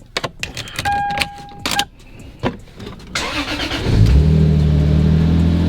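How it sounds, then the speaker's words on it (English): Keys jingle and a chime beeps, then a Lexus IS300's engine cranks and starts on a newly installed battery, settling into a steady, close idle rumble. "Battery is all hooked up, installed. We can get a good start."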